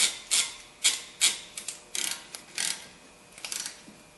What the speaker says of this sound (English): just put a ratchet on it and snug it up